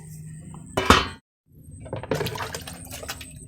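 Water splashes and pours into a container of feed to dissolve it, a short burst followed by a brief pause and then a longer trickling pour with light clinks.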